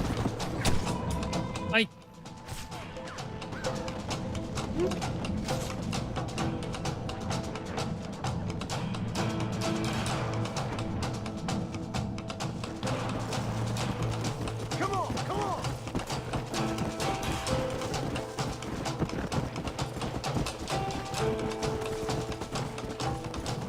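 Horse hooves clip-clopping in Red Dead Redemption, a dense rhythmic patter of hoofbeats running steadily throughout under game noise, with a man briefly exclaiming near the start.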